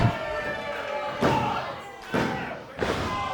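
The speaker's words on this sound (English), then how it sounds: "Top rope missile drop kick." A professional wrestler lands a top rope missile drop kick at an independent wrestling show, giving several heavy, booming thuds on the ring canvas over a steady, loud crowd roar.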